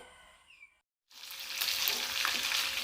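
Fresh fish goes into a hot pan and a loud, steady crackling sizzle starts after a brief silence, with fainter kitchen sounds just before.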